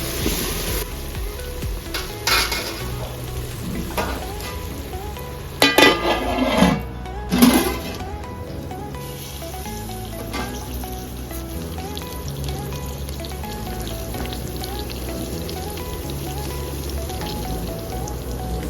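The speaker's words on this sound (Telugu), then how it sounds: "అల్లం వెల్లిపాయ ఫ్రై అయిందండి." Ginger garlic paste fries in a pan with a soft, continuous sizzle, broken by a few louder clatters and stirs near the middle, with no talking.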